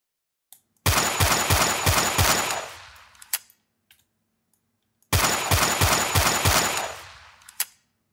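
Two bursts of rapid automatic gunfire from a shooter game built in Unity, each lasting about two seconds and separated by a quiet pause, with faint clicks between them. The shots sound synthetic.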